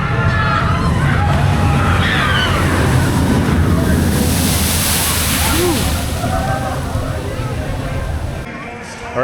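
Water splashes and rushes at the SheiKra ride at Busch Gardens Tampa Bay, a loud, continuous roar of flowing water close by, with a faint murmur of a crowd in the background.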